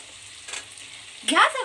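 Vegetables and peas frying in a pan for veg pulao, a soft steady sizzle that swells into a louder, brighter hiss near the end as the peas go in.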